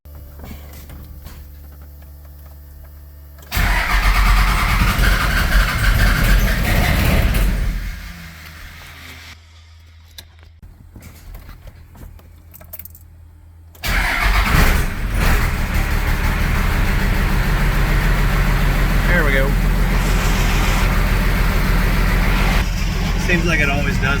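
A second-generation diesel truck engine cranks and fires, settling into a loud, steady idle after a quieter gap, following an earlier burst of heavy mechanical noise.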